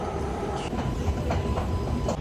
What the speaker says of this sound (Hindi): Bye bye metro, bye bye.